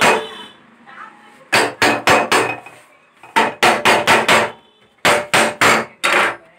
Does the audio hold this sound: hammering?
yes